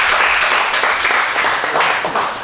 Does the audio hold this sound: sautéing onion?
no